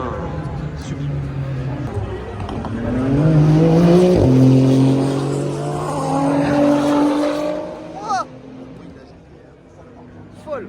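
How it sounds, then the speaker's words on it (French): Lamborghini supercars lap a racetrack, their engines revving loudly up and down in pitch as they pass close by, with voices talking over the roar before it fades near the end. "Eh, ça tourne les voitures là."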